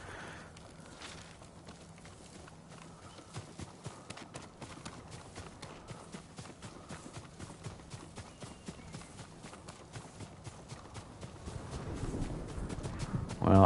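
A horse gallops in Ghost of Tsushima with a steady, rhythmic clatter of hoofbeats that grows louder and heavier toward the end.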